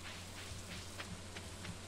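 Steady rain patters in the Stardew Valley farming game, a soft continuous hiss with faint droplet ticks and a low hum underneath, no voices.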